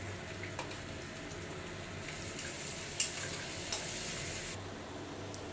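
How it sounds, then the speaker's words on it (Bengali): Masala with tomato, green chili, turmeric and salt being sautéed in a pan, a steady soft sizzle running throughout with a few faint clinks of a spoon, no voices. "আমার মশলাটা প্রায় কষানো হয়ে গেছে"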